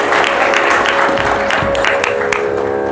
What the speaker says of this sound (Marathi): एकदा टाळ्या वाजवू त्याच्यासाठी.